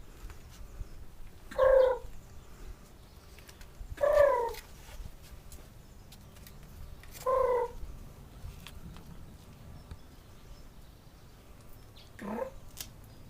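A person imitates a bird mating call while calling to birds, four separate warbling, pitched whistle-like calls spaced a couple of seconds apart, moderately loud against a quiet outdoor background.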